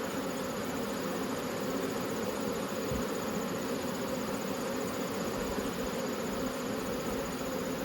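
Honey bees drone in a dense, steady buzz close by as they are shaken off a hive frame, the hum continuous and unbroken throughout.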